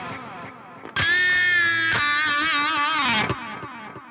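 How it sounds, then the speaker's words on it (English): Distorted metal guitar played through an MLC S_Zero 93° amp, its delay set to ping-pong so repeats bounce between left and right; a loud sustained chord rings for about two seconds and then trails off into fading echoes. "you can ping pong, so that's what we're doing right now. You can hear it bouncing between the two sides."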